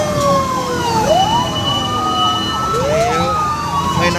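Fire truck siren sounding during a fire prevention month parade in Sta. Rosa, Laguna, its wailing tone rising and falling in two clear sweeps, loud and close amid street noise.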